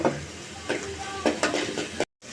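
Spice paste with green chillies fries in a pan for a surma fish curry with potato and eggplant, a continuous sizzle broken by repeated scraping strokes of a spoon stirring, ending in a sudden cut to silence.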